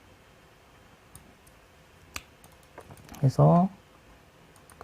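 A computer mouse gives a few faint, scattered clicks while someone works in Maya software, and a voice speaks briefly near the end.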